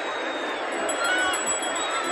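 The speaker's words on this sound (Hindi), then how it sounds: "भीड़ बहुत तगड़ी है" A large crowd gathers at a Dussehra Ravan effigy burning, a dense, steady hubbub of many voices and chatter filling the air at close range without pause.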